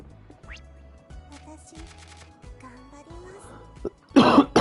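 A person coughs after eating greasy fish and chips: a single short, loud, rough cough burst near the end, after a quieter stretch of steady background music and soft tones.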